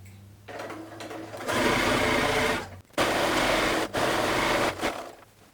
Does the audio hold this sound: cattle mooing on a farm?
no